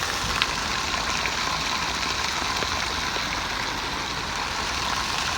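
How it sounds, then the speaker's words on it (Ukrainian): A steady, even hiss of rain falling outdoors, continuous and fairly loud, with faint scattered drops and a low rumble beneath. "ось так дощ"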